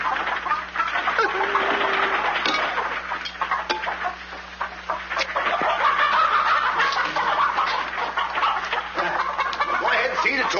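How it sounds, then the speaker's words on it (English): A flock of chickens clucks continuously on a farm, with busy overlapping clucks and squawks heard close, and someone speaking among the birds. "feed the chickens"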